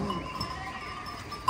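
Sheep bleat in a milking pen in a village farm setting, with a drawn-out nasal call near the start and a short sharp bleat at the end over low barnyard background noise.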